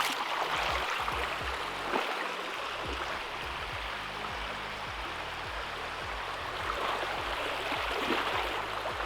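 Water flowing steadily at an outback waterhole crossing in the Pilbara near Newman, a continuous broadband rush that stays even and fairly close throughout, with no voices.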